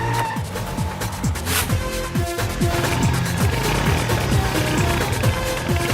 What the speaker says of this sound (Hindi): हमारा हीरो बाइक के साथ एंट्री मारेगा।